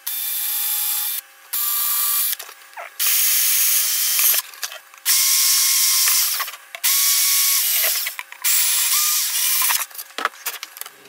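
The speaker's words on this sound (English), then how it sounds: "Take this rather small drill." A small handheld drill bores holes for mounting a Raspberry Pi touch screen, producing repeated high whining bursts of a few seconds each, separated by brief pauses, close and loud with no talking.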